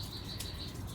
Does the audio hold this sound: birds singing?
yes